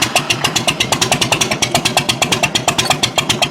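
A Farmall tractor engine runs with a rapid, steady chugging pulse, loud and close, its even firing beats repeating throughout with no voices over it.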